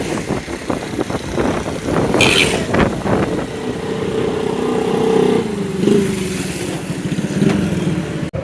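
A motorcycle engine runs close and loud, idling with a rough, pulsing beat and then revving up a few times, on a roadside where its owner is fetching petrol for it.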